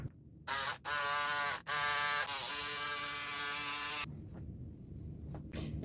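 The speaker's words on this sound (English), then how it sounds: "I'm going to use my electric scissors" Electric scissors cutting through denim jeans, a loud close buzzing whir in several short bursts broken by brief pauses, then one longer sustained run before the motor stops, leaving quiet rustling of fabric.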